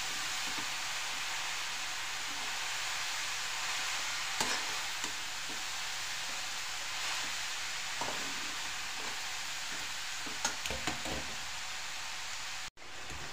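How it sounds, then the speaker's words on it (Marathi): Carrot halwa is stirred in a pan with a steady soft scraping hiss that runs continuously, broken by a few faint clinks near the end. No one speaks. "याला गाजरचा हलवा बनवताना याला सतत असं हलवत राहायचं, नाहीतर खाली लागू शकतो आपला हलवा"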